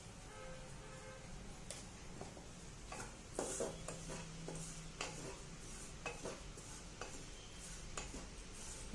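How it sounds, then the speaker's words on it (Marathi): Spices with turmeric, chili powder and salt roast in a pan for Shegaon kachori filling, with a metal spoon scraping and clinking against the pan at irregular intervals over a faint sizzle; quiet and close, no talking. "मसाला भाजत आलाय आपला आता।"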